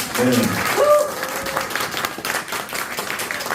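Applause from a gathered crowd at a human rights award ceremony, steady clapping with some voices mixed in at the start.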